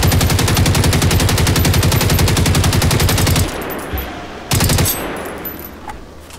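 Rapid automatic gunfire in the video game Generation Zero, a loud sustained burst of evenly spaced shots for over three seconds, then a pause and one more short burst, with no talk over it.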